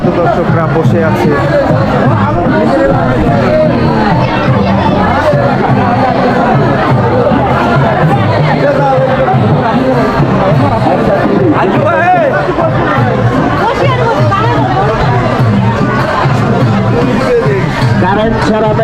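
Dense crowd babble fills the air at a Kali fair in Madhai Khal, with many overlapping voices chattering loudly and steadily throughout, close and continuous.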